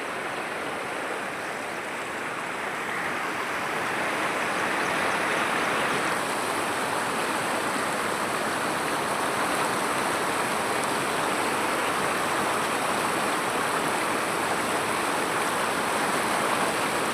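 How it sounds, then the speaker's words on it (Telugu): Floodwater from heavy rains rushes out from under a small bridge, a loud, steady roar of churning water that holds without pause throughout. "అక్కడ ఒక చిన్న బ్రిడ్జ్ చూడండి, ఆ బ్రిడ్జ్ నుంచి నీళ్ళు వస్తున్నాయి."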